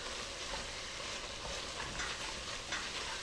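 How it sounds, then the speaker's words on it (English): Food being mixed in a greasy pan on a home stove, a steady sizzle with soft scraping running unbroken and fairly close throughout, no voices. "I'm going to mix this in."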